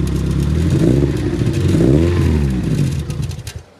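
A car engine revs hard close by, its pitch swelling and falling in a loud throaty roar before dropping away to quiet at the end.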